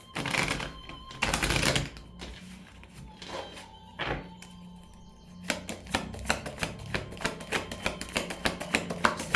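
Tarot cards are riffled and tapped close by, first in a few loose bursts, then in a quick rhythmic series of soft flicks and thumps.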